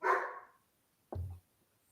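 A dog gives two barks: a loud, sharp bark, then a short silence and a second, deeper, shorter bark. Both are close by, and no one speaks.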